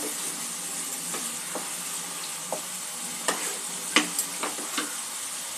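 Bengali-style boal fish curry sizzles steadily in a pan as Kashmiri chili powder, chili powder and cumin powder are stirred in, with a constant frying hiss and a few scattered spoon scrapes and taps.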